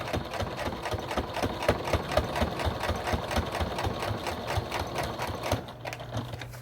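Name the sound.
sewing machine stitching through multiple layers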